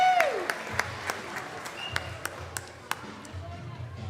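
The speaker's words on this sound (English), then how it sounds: "All right, one last round of applause." Audience applause at a children's Purim play, with scattered sharp claps and whoops over a steady crowd wash, fairly loud and continuous throughout, with voices mixed in.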